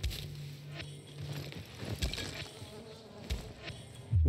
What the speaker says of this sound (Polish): czy gdzieś tu jeszcze pszczoły na pewno są